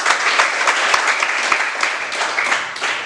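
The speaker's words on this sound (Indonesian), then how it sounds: "Tepuk tangan buat kelompok 4." Classroom applause for a student group after a presentation, a dense burst of many hands clapping steadily for about three seconds, fairly close and with no voices over it.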